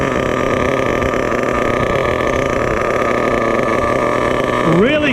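Losi 8IGHT nitro RC car engine catching and settling into a steady, buzzing idle, loud and close, with a brief rising rev at the end.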